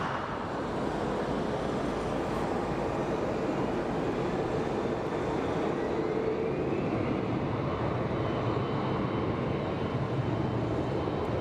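An Envoy airliner bound for Honolulu taxis across an airport bridge, giving a steady, broad engine roar and rumble that holds at a constant level throughout, heard alone at a moderate distance.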